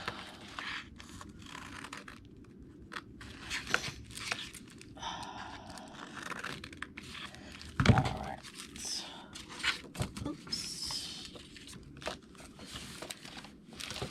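Scissors snip and paper rustles while stamped paper Christmas gift tags are cut out, giving irregular crisp cuts and crinkles close by with a louder scrape midway, over steady background noise.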